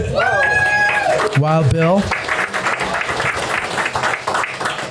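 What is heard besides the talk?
audience applause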